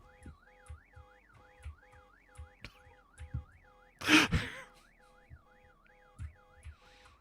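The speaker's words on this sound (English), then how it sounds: "My car alarm brings all the zombies to the yard." A car alarm in the zombie survival game VEIN wails in a steady rising and falling cycle, with repeated chirps and thuds beneath it and a sharp gasp or sigh partway through.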